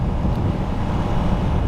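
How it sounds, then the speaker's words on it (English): Wind blowing on a hilltop, a steady low rumbling gust against the microphone for a short stretch, with no talking. "it is windy up here, like it really is"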